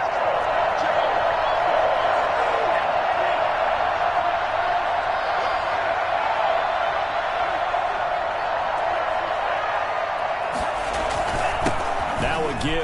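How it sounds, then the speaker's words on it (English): A football stadium crowd roars loudly and steadily, building toward a big third down. The broad cheering noise holds throughout, and a few sharp thumps come near the end. "the crowd getting into it as we come up on a big 3rd down"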